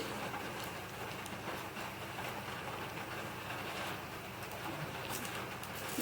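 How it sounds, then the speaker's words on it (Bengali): Heavy rain patters down outside a home kitchen, a dense steady drumming with scattered sharper drips and a faint cooing bird somewhere nearby. "টপটপ করে এটা বৃষ্টি পড়ছে খুব জোর বৃষ্টি চলে এসেছে ওই জন্য আওয়াজ হচ্ছে"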